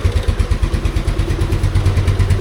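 A 2014 Yamaha Mio Sporty scooter engine idles just after a cold start, a loud, close, steady low putter with a regular pulsing beat and no talk over it.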